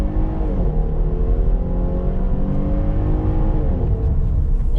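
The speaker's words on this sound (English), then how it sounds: "So now I'm gonna put the truck in sport mode and do a little launch and see how it feels." A 2021 Dodge Durango SXT Plus six-cylinder SUV in sport mode launches hard, its engine revving up and steadily climbing in pitch, loud and close, with a continuous throaty roar throughout.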